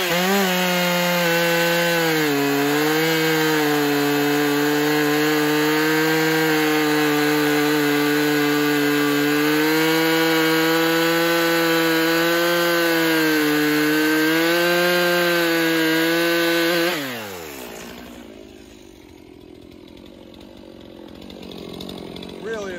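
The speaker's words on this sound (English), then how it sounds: "Up the butt of this log and we'll make a 20 inch plus cut." A Stihl MS362 chainsaw with a Stihl RS450 chain cuts through a log, its loud, steady engine note dipping slightly under load for about seventeen seconds before it stops and the sound falls to quiet background.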